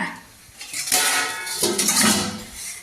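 A metal ladle clinks and scrapes against an iron kadai as nettle dal is lifted out, a few close, bright knocks and rattles over a couple of seconds with no talking.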